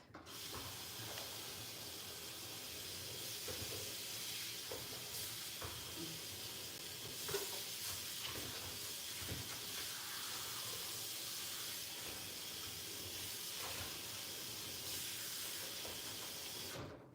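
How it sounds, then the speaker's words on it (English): Tap water runs steadily into a sink during handwashing, a soft, even hiss that carries on throughout with small splashes and clatters, faint and at moderate distance. "let me wash my hands"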